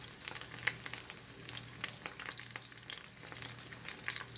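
Honey-coated vegan corned beef fries in a pan with a steady, busy crackle and sizzle, close and fairly quiet, with scattered sharper pops and no talking.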